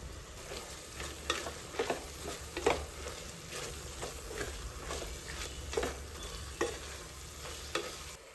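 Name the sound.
masala frying and being stirred in a pan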